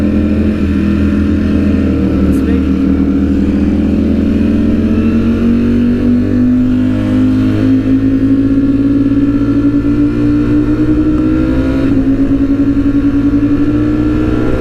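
A Ducati Panigale V4R and a Streetfighter V4S rev together, their loud, continuous engine drone swelling and rising in pitch, close up, with no talking.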